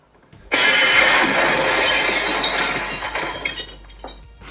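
A loud glass smash bursts in after a brief quiet start, followed by a dense spray of shattering and tinkling shards that slowly thin out, all artificially generated with no voices.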